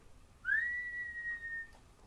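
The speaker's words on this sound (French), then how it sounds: "elle se met à siffler doucement" A single soft, steady whistled tone, slightly rising at the start, then held evenly for over a second before fading, quiet and alone.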